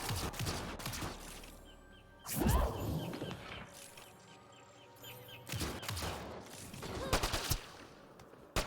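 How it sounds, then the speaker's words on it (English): Bursts of gunfire in the video game Mass Effect Andromeda crack out in sharp clusters, several short volleys separated by quieter gaps, with clanking impacts and game effects in between. "It's like a burst fire."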